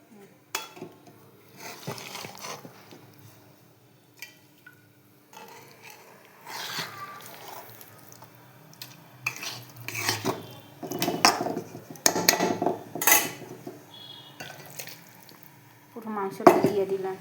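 Meat cooks in a pot while a utensil scrapes and clanks against the metal in irregular bursts, quiet and close, with a voice talking in between.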